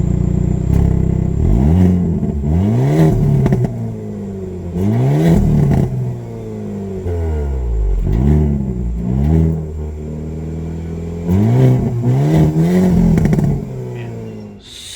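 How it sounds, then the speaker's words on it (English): Hyundai Kona N crossover exhaust roaring through repeated loud rev bursts, each sweep rising and falling sharply with crackling overrun between, close and dominant with no talk. "you have the really huge exhaust back here, which I'll insert a clip now of what these sound like"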